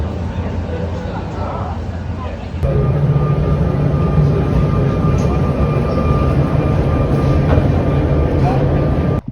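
Continuous rumbling and clattering of a small tourist train running nearby in Mallorca, growing louder partway through, with faint voices mixed in.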